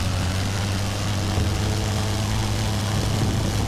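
An Aviatik biplane engine in Wings Over Flanders Fields gives a loud, steady propeller drone with a strong low throb that holds level throughout.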